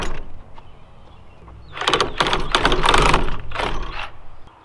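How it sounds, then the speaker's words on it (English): A Sawzall reciprocating saw cuts through a rubber hockey puck, starting with quiet handling noises and then a loud, rough buzzing burst of sawing with rapid surges that lasts about three seconds before it stops. "Next, we're gonna cut our hockey puck in half."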